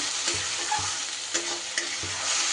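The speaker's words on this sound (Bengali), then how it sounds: "সুন্দর করে এবার মশলা আমি কষিয়ে নেব।" Ground spice paste fries with bottle gourd in a pan, a close, steady sizzle broken by regular scraping strokes of a spoon stirring it.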